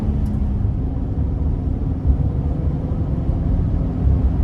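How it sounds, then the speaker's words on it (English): Chevrolet Express 2500 conversion van engine pulling uphill under throttle, a steady low rumble with road and cabin noise, heard from inside the vehicle. "Then we're gonna give it some throttle up this hill"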